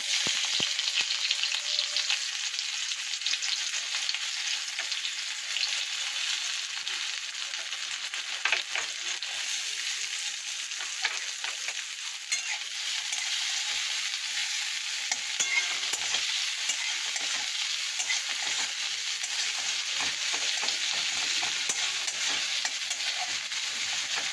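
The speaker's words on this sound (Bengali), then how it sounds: "ফার্স্টে একটা শুকনো লঙ্কা ফোড়ন দেবো, দিয়ে পেঁয়াজগুলো দেবো।" Dried chilli and onions frying in hot oil in a wok, a steady loud sizzle throughout with scraping stirs and small crackles, no talking.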